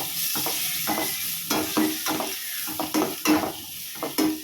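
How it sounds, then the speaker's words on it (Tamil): Onions frying with ginger garlic paste in a pan for a vegetable kurma, a steady sizzle broken by repeated stirring scrapes at an uneven rhythm, close and fairly loud with no talking. "நல்லா இஞ்சி பூண்டு பேஸ்ட் சேர்த்து நல்லா வதக்கி விட்டுக்கோங்க வாசனை போகிற வரைக்கும்."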